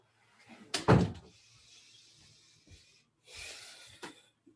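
A cat at a house door sets off one loud thump against the door, followed by a softer broadband rustle and a second burst of scraping noise, close by with no talking.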